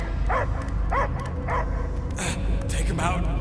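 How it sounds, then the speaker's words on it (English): A dog barks about half a dozen times at a steady, fairly even pace over a constant noisy game soundtrack in Guardians of the Galaxy. "I hear only barking"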